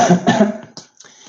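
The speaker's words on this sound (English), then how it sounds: "analyzing the coughs of people, people coughing" Several short, rough coughs from nearby people, clustered together and fading off toward the end, with no speech.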